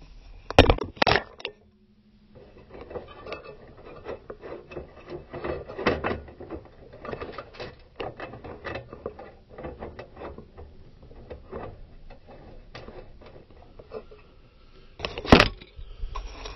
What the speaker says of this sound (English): And I'm going to feed one screw in.